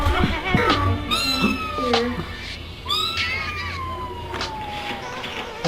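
A pet cat meows repeatedly at home, drawn-out wavering cries up close, one long descending yowl in the middle, with some faint background voices.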